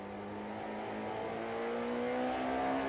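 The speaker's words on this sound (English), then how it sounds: "Paul Radisich wants a way past the Motorplan BMW as they approach the 90-degree left-hander at Gestetner." Super touring race cars such as a Ford Mondeo and a BMW accelerating toward a 90-degree left-hand corner at Kyalami, engine tone rising steadily and growing louder over a few seconds, without voices.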